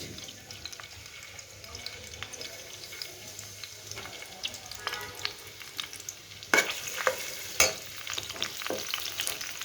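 Onions fry in oil in a home kitchen for a cabbage curry, a low steady sizzle with scattered stirring clicks and a couple of sharper knocks near the end, with a faint voice in the background.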